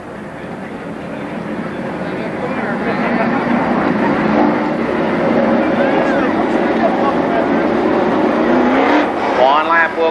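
Race cars roll off for a heat race at Columbus Motor Speedway in 1996, a rumbling pack of engines building from a quiet start to a sustained roar while an announcer talks over the noise.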